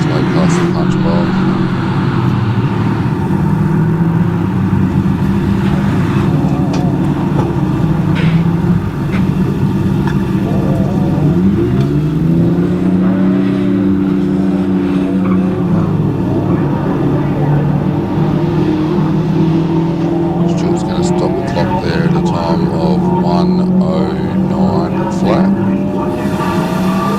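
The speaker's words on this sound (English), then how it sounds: "WRX making its way to the top of the hill." A Subaru WRX race car climbs a lakeside hillclimb course, its engine droning loud and steady with a rising pitch sweep midway as it changes gear, while an announcer talks over the sound throughout.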